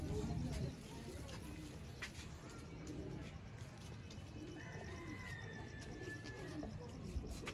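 A pure-breeder pigeon pair coos softly in low murmuring calls amid a loft, with occasional faint chirps and a brief whistle-like tone, while someone speaks over them nearly throughout.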